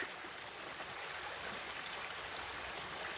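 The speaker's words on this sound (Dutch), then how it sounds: "De beek stroomt onder de brug." A brook flowing under a bridge on a walk: a steady, soft, broadband rush of running water continues without a break, with no voices.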